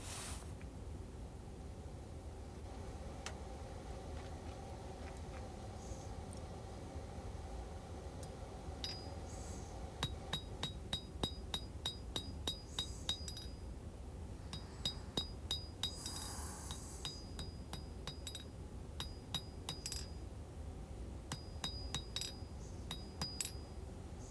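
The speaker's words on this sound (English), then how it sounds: "Just forging it out and getting it rough." A hammer strikes steel while forging a Bowie knife guard, sharp ringing metallic blows in quick bursts over a loud steady roar of a forge or blower, fairly close.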